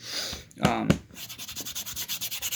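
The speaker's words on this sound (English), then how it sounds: "then take your sandpaper" Sandpaper rubbing across an antique wooden piece, a few scratchy strokes followed by a quick, even series of rhythmic rasping passes, close and fairly loud.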